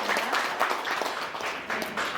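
An audience claps steadily for a couple of seconds at a literary award ceremony, a dense wash of applause from a room full of people.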